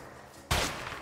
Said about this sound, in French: je tire sur un sniper avec un fusil à pompe